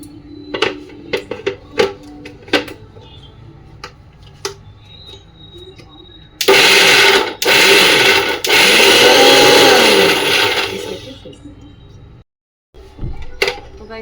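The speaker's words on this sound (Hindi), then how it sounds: "लहसुन अदरक दोनों डाल के, नमक और हल्दी और थोड़ा सा ऑयल डाल के इसको अच्छे से पीस लूँ बस" A mixer grinder roars loudly for about five seconds while grinding garlic, ginger, salt, turmeric and a little oil, preceded by light kitchen clatter and taps and followed by a brief burst of noise.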